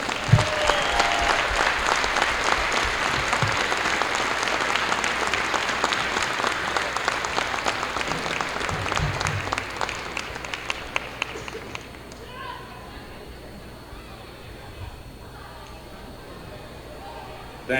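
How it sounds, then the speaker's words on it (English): A school wrestling crowd in a gym applauds loudly and continuously for a long stretch, a thick wash of clapping with a few sharper claps, then it drops away to quieter room tone near the end. "Would you please give him a round of applause"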